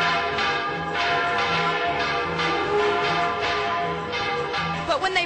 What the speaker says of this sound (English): these three stooges try to ring one of these massive church bells